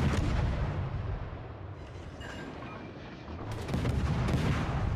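Heavy ship guns boom in a naval combat video game, a continuous rumbling barrage of deep blasts, loud and close, with no voices.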